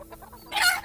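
A chicken gives a brief clucking call, close and fairly loud, preceded by a few softer clucks.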